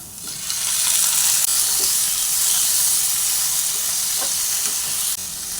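Bitter gourd with tomato and mango sautéing in a pan for a curry: a loud, steady hiss of sizzling oil with occasional soft stirring knocks, continuous and close.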